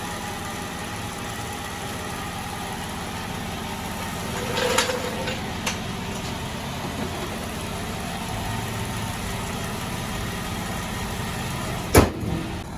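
A 2003 Nissan Altima 3.5 engine idles after a thermostat change, a steady mid-pitched hum with a couple of brief clicks and knocks partway through and near the end.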